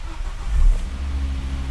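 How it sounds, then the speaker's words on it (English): A Volvo V70R with electrical faults after a computer replacement cranks and catches, its engine swelling into a low rumble and settling to a steady idle, close and clear. "Okay, it starts and no gauges."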